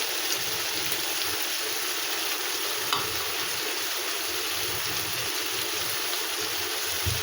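Shrimp sizzle steadily in a pan seasoned with turmeric, salt and chili, a continuous close frying hiss with faint stirring clicks and no talking.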